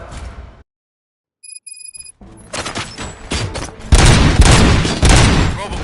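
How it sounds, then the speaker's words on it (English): Gunfire erupts in the Robocop Rogue City video game, a short silence and electronic beeps giving way to rapid loud bursts of shots and booms, with voices talking over the noise. "Gunshots? What's going on?"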